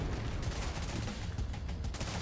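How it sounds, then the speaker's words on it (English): Gunfire and grenade blasts in the video game The Division, a dense, continuous burst of rapid shots and explosions at moderate loudness throughout the short stretch. "I'm throwing out mad grenades too."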